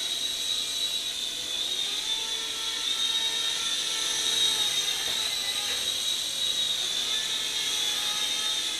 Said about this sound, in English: You can hear the motor really kick up.